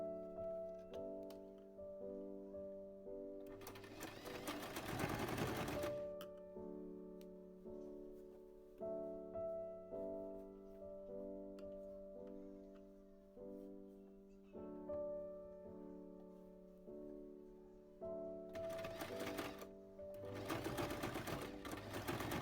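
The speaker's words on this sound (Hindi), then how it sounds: "हमें इसको यहाँ पे ऐसे रखकर सिलाई करनी है" Sewing machine stitching a knitted baby frock, running in rhythmic bursts of rapid whirring with brief pauses between runs, fairly close and clear, with no talking.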